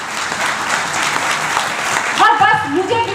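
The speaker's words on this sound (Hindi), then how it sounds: "समीर मोदी जी सर के लिए तालियां" An audience at a Hindi business success-story event applauds steadily for about two seconds, then the clapping thins as a voice begins speaking over the tail end.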